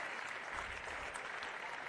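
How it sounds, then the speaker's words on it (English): Perth Glory supporters at a women's football match give a brief ripple of distant applause, faint and thin under the broadcast crowd ambience. "Brings some applause from the Glory fans."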